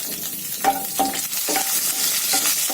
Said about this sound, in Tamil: சோம்பு, பட்டை, லவங்கம் எல்லாம் போட்டுட்டு கொஞ்சம் வதக்குங்க.